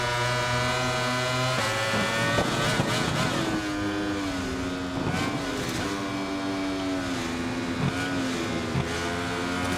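MotoGP racing motorcycles at the Qatar race, engines whining loudly and continuously with rising and falling pitch as the bikes accelerate and pass, under a busy broadcast mix.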